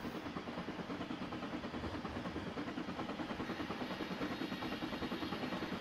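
A train rolls along in Trainz Railroad Simulator 2019, a steady, rhythmic rumbling and clacking with an even pulse and nothing else over it.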